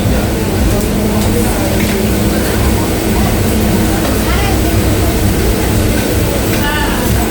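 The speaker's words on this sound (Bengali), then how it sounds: "ট্রেনটা ছাড়লো" A Santragachi–Digha local train pulls out and runs along, a loud, steady, close rumble of wheels and carriage that fills the whole stretch, with a faint murmur of voices mixed in.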